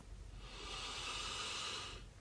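One big, slow breath taken during an EFT tapping session, a soft airy inhale-exhale that swells and fades over about two seconds, faint and close.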